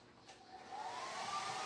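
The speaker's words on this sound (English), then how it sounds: "then I'm just going to dry it with my hair dryer" A hair dryer set on low runs steadily, a faint airy whoosh with a thin rising whine, heard alone nearby.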